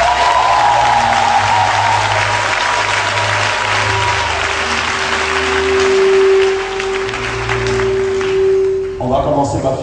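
A church congregation claps and cheers loudly in sustained applause acclaiming Jesus, a dense roar of hands that fades near the end as a voice begins to speak.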